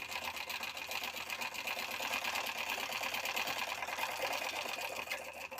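A sewing machine runs steadily, stitching the neckline seam of a blouse in one continuous, even whir that is close and moderately loud, with no pauses and no voices.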